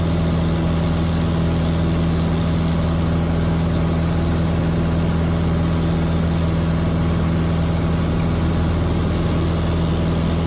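Steady drone of a tailwheel training airplane's engine during a climb, loud and close, with a constant low hum running unbroken and no talking.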